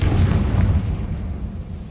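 A Confringo spell explodes in Hogwarts Legacy, a deep heavy boom that hits at once and rumbles away over about two seconds.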